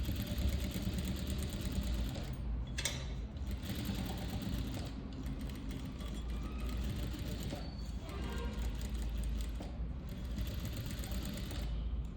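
A sewing machine stitches a neckline with thread piping on canvas fabric, humming continuously and close with small shifts in speed and faint background voices.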